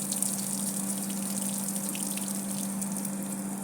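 Water gushes steadily from a hose or pump while plants in a home eggplant garden are watered, a constant close rushing with a low steady hum underneath.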